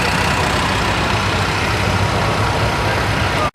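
A tractor engine runs at a vintage tractor show, a loud, continuous engine rumble held steady throughout, with a brief dropout at the very end.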